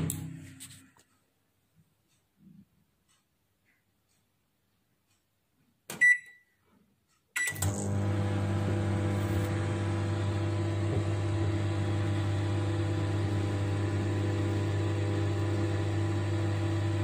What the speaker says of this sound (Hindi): पापड़ को माइक्रोवेव में